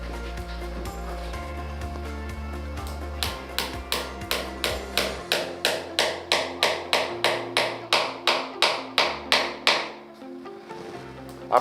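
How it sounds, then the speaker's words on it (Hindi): A screw being driven into a wall to hold a camera clamp, heard as a steady run of about twenty sharp, evenly spaced clicks or taps after a low motor hum fades, close and fairly loud with no talking. "सबसे पहले हमें स्क्रू माउंट करना है वॉल पे जिस पे ये क्लैम्प हमारा बैठेगा"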